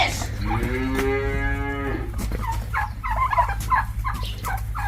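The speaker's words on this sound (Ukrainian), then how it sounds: "То не корова, то телята ревуть, а їх двоє там стоїть." Calves bellow loudly in drawn-out, harmonic calls, followed by a series of shorter, rougher cries over a steady low hum.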